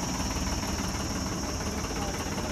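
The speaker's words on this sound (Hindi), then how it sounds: "tractor Sonalika, tractor Sonalika" A 2008 Sonalika DI 750 tractor idling at an outdoor tractor market in Barnala, Punjab, a steady, even engine drone with broadband noise running unchanged throughout.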